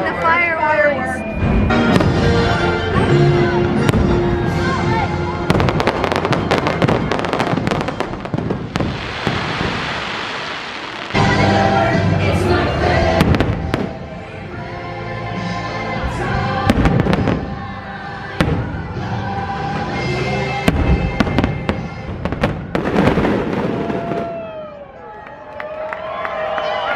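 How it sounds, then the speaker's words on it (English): Fireworks at Mickey's Very Merry Christmas Party in a Disney park, a long run of booms and crackling bursts over a murmuring crowd, with people talking nearby. "I think we're missing the fireworks."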